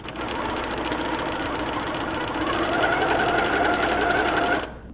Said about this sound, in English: sew a 1/4 inch seam along this long edge right here